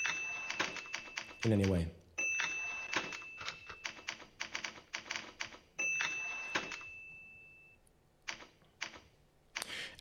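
Rapid clacking typewriter keystrokes in irregular bursts, with a sharp carriage-return bell and ratchet, close and fairly loud, while someone speaks briefly.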